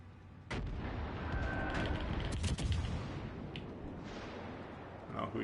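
German cruiser naval guns in the console game World of Warships Legends booming out heavy salvos, with deep rumbling blasts that roll on and overlap, followed by further shots in quick succession.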